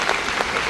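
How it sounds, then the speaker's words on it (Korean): Audience applause at a lecture on AI and Go breaks out as a dense, steady patter of many hands clapping, close and loud throughout the short moment. "위대한 대한민국 국민을 위해서 박수 한번 하겠습니다."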